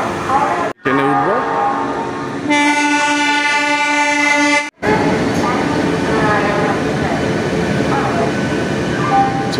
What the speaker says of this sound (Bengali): আমাদের উল্টো দিকে ট্রেনটা ছেড়ে দিল